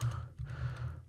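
Quick key presses on a computer keyboard, a run of soft close clicks and taps, quiet and unaccompanied by talk.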